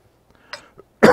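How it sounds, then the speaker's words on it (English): A single sharp, close cough bursts out at the end after a couple of faint small noises, during a World of Tanks gaming session. "Sorry for the coughing."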